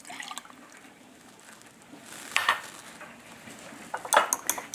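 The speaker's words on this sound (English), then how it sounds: "Get a fork, you're gonna beat it up." Fork clinking against a bowl while beating an egg, a faint clatter of light metallic taps with a couple of sharper knocks, no voices.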